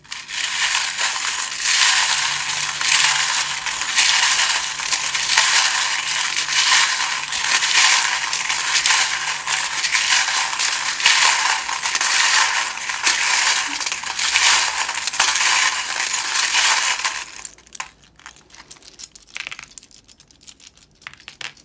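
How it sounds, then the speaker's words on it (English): Tarot charms and dice shuffled together, a loud, continuous close-up rattle and clatter of small hard pieces lasting most of the time before stopping abruptly, leaving faint scattered clicks. "It can be quite loud when I'm like, you know, shuffling."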